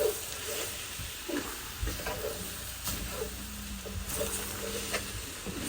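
Leafy greens stirred and fried in a pan, with a steady soft sizzle and intermittent scraping stir strokes throughout, close and moderately loud, no talking.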